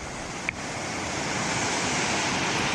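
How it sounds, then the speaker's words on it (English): A waterfall on Oahu pours onto rocks beside small caves, giving a steady, broadband rush of falling water that stays loud and even throughout with no voices. "That's our waterfall."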